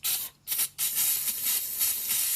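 Throttle body cleaner hisses from an aerosol can into the intake of a Mercedes W124 300CE coupe: a short spurt, a brief pause, another quick burst, then a steady close spray lasting about two seconds.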